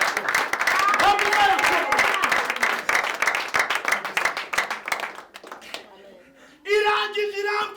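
Church congregation applauding in a dense burst of clapping that fades after about five seconds, with voices and a short sung or shouted phrase near the end.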